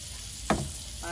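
A raw tuna steak hits a hot grill with a sudden, sharp hiss that settles into a steady, quieter sizzle, close by and alone.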